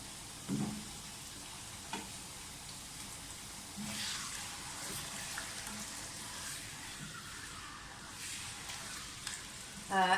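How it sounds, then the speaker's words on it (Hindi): Chicken fries in a hot karahi with an even, steady sizzle and crackle, and occasional spoon knocks and stirring sounds on top. "सबसे पहले इसमें चिकन डाल दें। चिकन को मैं थोड़ा सा फ्राई करूँगी पहले"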